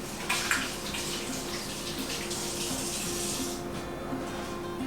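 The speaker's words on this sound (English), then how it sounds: "Let me wash my hands real quick." Tap water runs steadily into a kitchen sink as hands are washed during pork roast preparation, a close, even hiss with a brief splashy burst near the start and no talking.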